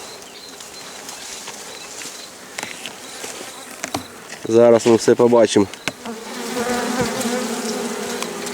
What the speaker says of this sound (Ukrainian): бджола літає